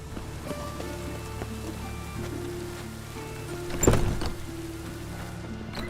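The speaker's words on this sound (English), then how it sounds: "And it's raining again." Rain patters on surfaces in The Witcher 3: Wild Hunt as a soft, steady hiss under a low ambient game hum, broken by one brief louder thump near the middle.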